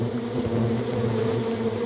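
Hornets nesting under the eaves of a three-storey school building give off a steady, close, droning buzz that holds without a break.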